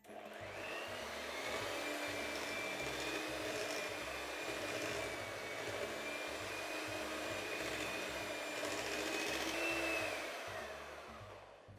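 An electric mixer whirs continuously through cake batter as eggs are added, a steady mid-level motor drone with a faint rhythmic rattle that holds for the whole stretch before slowing slightly at the end.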